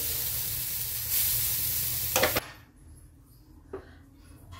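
A green moong dal crepe sizzles on a pan with a dense, close frying hiss that cuts off abruptly after about two seconds, followed by quiet background and a few faint clicks.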